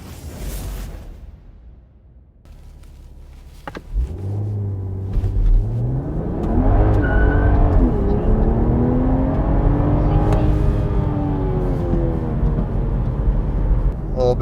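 A MKV Toyota GR Supra on an ethanol flex-fuel tune revs up and pulls hard, the pitch climbing and sweeping as it accelerates, loud and close with road rumble and some voice over it.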